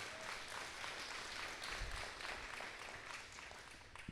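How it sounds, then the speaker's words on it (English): At a Reconstruction Era historical marker ceremony, an outdoor audience claps steadily in a soft, distant patter with low wind rumble, no voices. "some more applause for caring and sharing"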